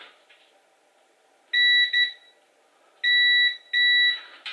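A multimeter set to continuity gives three sharp, loud electronic beeps while a welder switch is tested: a short pair near the start, then two longer tones after a pause.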